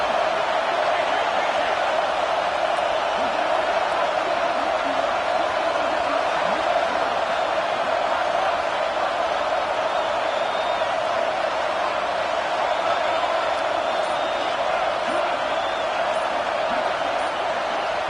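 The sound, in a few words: stadium crowd roaring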